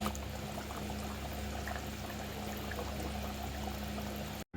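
Water pours steadily into a pan of sizzling spice paste with boiled potatoes, turmeric, salt and cumin, giving a continuous close hiss that cuts off abruptly at the end.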